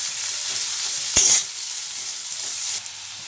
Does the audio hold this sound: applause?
no